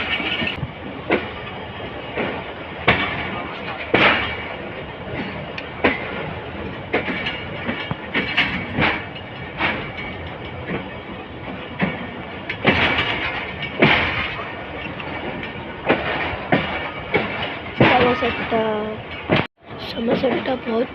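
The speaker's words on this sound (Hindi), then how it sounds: "समरसट्टा क्रॉस कर रही है ट्रेन" The Tezgam Express, hauled by a GEU-40 locomotive, runs past Samarsatta, heard from inside with a loud steady rumble and rhythmic clickety-clack of wheels over rail joints, plus a brief dropout near the end.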